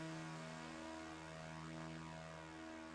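A B-25 bomber flies in the RealFlight 8 flight simulator, its twin piston engines holding a steady, loud drone with a strong harmonic hum and no voices.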